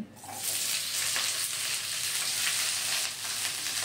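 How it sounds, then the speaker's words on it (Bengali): Cauliflower stems and flat beans fry in oil with panch phoron over low flame, a dense, continuous hiss of sizzling oil, close and steady throughout without speech. "এবারে আমরা এর মধ্যে দিয়ে দেব একটা ফুলকপির কুচিয়ে কেটে রাখা ডাটা এবং 150 গ্রাম শিম।"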